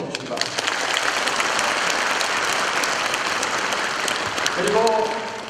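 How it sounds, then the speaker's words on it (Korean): An audience claps steadily at a community residents' committee launch meeting: a sustained round of dense applause that fades as a voice comes in near the end. "우리 이웃들에게도 박수 한번 보내주시기 바랍니다"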